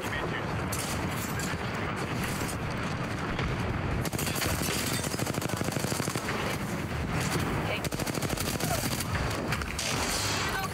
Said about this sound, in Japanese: 全部撃っていく。